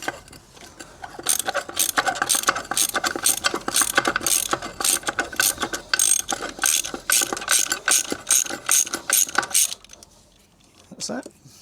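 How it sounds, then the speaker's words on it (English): A 19mm ratchet loosening a wheel nut on a VW Crafter van, rapid metallic clicking of the pawl in a steady fast run for several seconds, close and loud, then stopping. "Using the same 19mm ratchet. Just got to unslacken this nut."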